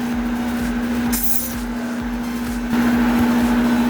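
A sewing machine runs through test fabric with a steady motor hum and a fast, even ticking of the stitching, continuing nonstop and fairly close throughout.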